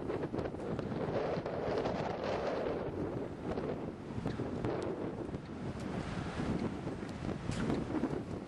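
Strong wind gusting around 50 mph across a harbor as a weather front passes, a continuous loud roar and buffeting against the microphone with surging water noise beneath, no voices.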